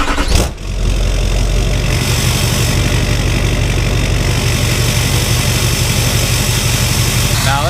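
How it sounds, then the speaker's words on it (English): Truck engine idling loudly through a temporary exhaust setup, a brief cranking burst then a steady deep rumble close by, with a rising rev at the end. "So this right here is the temporary exhaust setup."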